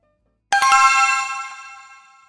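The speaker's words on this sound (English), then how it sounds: "Steve, I just got a text message about a dinner reservation on Saturday" A phone's text message alert rings out as a single bright, bell-like chime that strikes sharply after a moment of silence, then rings on and slowly fades away.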